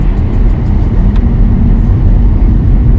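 A classic car on a Norwegian street gives a loud, steady engine rumble and road roar, close by and continuous, with no talk over it.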